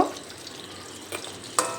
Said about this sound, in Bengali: আমি ঢাকনা দিয়ে ঢেকে এই মাছের ডিমের বড়াগুলো ভেজে নেব।